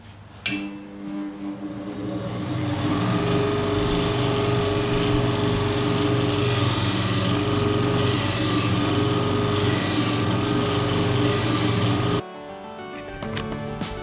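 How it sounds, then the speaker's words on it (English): A belt sander with a finer belt grinds steadily on a part for a 2004 Kawasaki KLX110 motorcycle build, a loud continuous whirring drone that starts after a brief pause and cuts off abruptly near the end. "this will just go a little bit finer and smoother than the linishing belt did"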